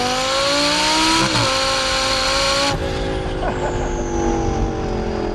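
Heffner twin-turbo Lamborghini Gallardo LP560 with a tuned 900 hp V10 revs loudly and close, its pitch climbing, dipping sharply and climbing again, then holding a steadier engine roar with a faint high whine.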